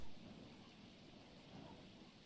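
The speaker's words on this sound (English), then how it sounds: "Sounds like it's raining." Steady rain falls in a continuous soft broadband wash, faint and distant, with no voices.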